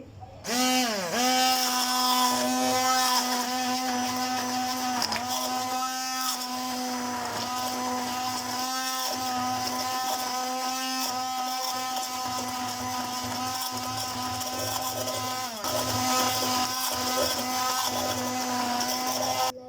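A kitchen blender grinding tomato and green chili into a paste, a loud steady motor whine that runs on and shifts in pitch as the load changes, close up and alone.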